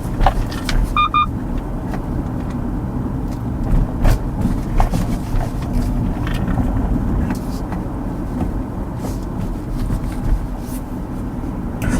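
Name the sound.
Hyundai Casper Electric driving over a speed bump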